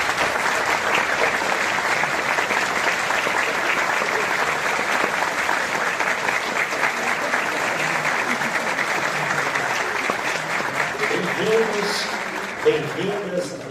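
A seated audience at a university lecture event in Caxias do Sul rises to give a warm round of applause for visitors, sustained, dense and loud throughout, with a voice coming in underneath near the end.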